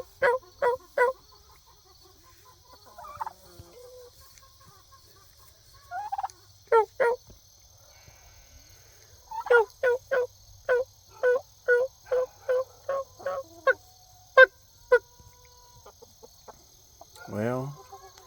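A turkey suspected to be a gobbler, penned in a chicken tractor with roosters and hens, gives a run of sharp, rapid gobble-like bursts at close range, with scattered clucks and a louder squawk at the end.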